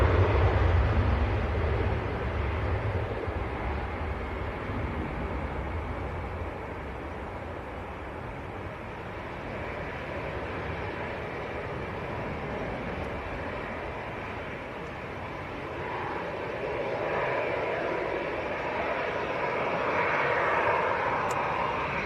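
A Ryanair airliner passes at Manchester Airport on a crosswind day, its engines a steady broad roar that swells slightly near the end, heard alone without talk.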